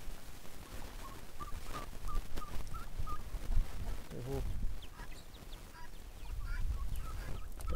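Free-range farm chickens clucking and calling around the nest area during egg collecting, repeated short fowl calls over a busy, noisy yard background.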